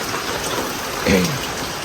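Heavy rain in Thrissur pours down in a dense, steady hiss that swells slightly midway and fills the whole scene.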